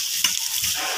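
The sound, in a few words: chicken liver frying and being stirred in a pan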